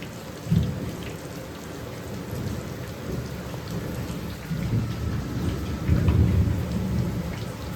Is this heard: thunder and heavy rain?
yes